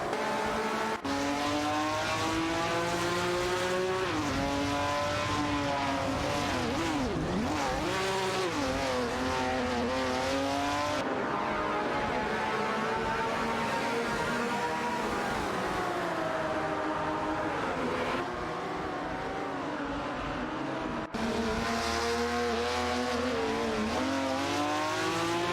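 Race cars lapping a track in an AI racing video game, engines loud and close with rising and falling revs as gears shift, several cuts between cars and a faint tire squeal.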